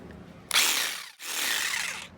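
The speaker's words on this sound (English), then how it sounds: "now we're gonna drill and" A power drill whines loudly in two bursts, broadband and steady, with a short pause between them as it bores through a Hobie 16 catamaran hull.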